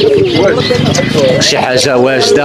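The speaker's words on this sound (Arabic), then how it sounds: "هذا حمام ديال الزينه" Ornamental pigeons coo at a weekly bird and pigeon market, soft repeated cooing heard under a man's close, continuous talk.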